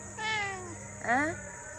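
A cat, apparently half-deaf with an injured eye, gives two drawn-out meows about a second apart, fairly close and clear over quiet room background.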